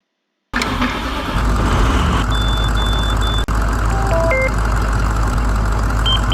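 Simulated 2007 Blue Bird International school bus with a 7.6-liter DT466E diesel cranks and fires up in Rigs of Rods, settling into a steady low engine drone with a few electronic warning beeps over it; no talking.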